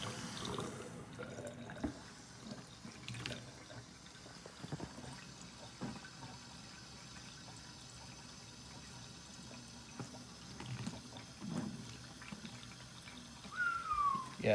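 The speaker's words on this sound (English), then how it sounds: "when the water is running" Water runs steadily from a tap during the install of a Rheem RETEX-13 tankless water heater in 2018, a soft continuous rushing with occasional clunks and handling noises.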